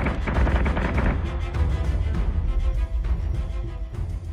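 Spaceship cannons firing in the Battlestar Galactica Deadlock space-combat game: loud, rapid bursts of gunfire and heavy booms stacked close together, most intense in the first second, then continuing in sparser volleys.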